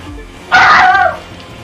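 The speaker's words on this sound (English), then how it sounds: "God, that dog's annoying." A single loud, close dog bark or yelp bursts out in The Crew 2 during a street race in West Harlem, standing alone for under a second.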